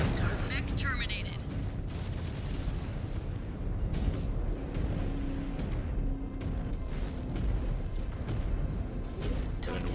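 A mech blows up in the video game Mechwarrior 5: Clans, with heavy rumbling booms and repeated crackling blasts that stay loud and dense throughout, layered with battle noise.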